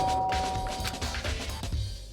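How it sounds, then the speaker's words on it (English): A chime-like doorbell ring from the video game Danganronpa, a clear ringing tone sustained over a couple of seconds with faint background game audio. "I pressed the doorbell."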